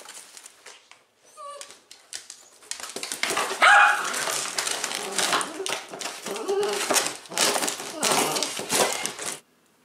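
A dog barks and yips at the mailman in a run of sharp, close bursts, with a whimpering note, while people talk over it.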